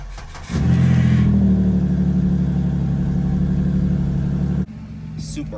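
A car engine starts after a brake booster replacement, catching quickly and settling into a loud, steady idle that holds for several seconds before dropping off abruptly; a voice is faint in the background.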